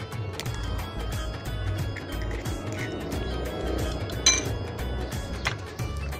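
A single egg whisked in a bowl, quick repeated clinking and sloshing of utensil against the bowl with a steady rhythm, close and fairly loud, with no talking.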